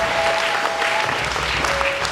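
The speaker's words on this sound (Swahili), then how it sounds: "Pigia Yesu makofi mengi." A church congregation claps in a loud, sustained burst of dense applause, close and filling the room, lasting a couple of seconds without voices.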